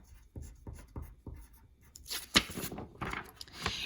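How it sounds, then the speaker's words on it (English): A pen marking a hand-drawn Nile delta diagram, with several short, evenly spaced scratchy strokes followed by busier scribbling and a sharp tap, close and quiet, with no voice. "Let me actually add that to my drawing."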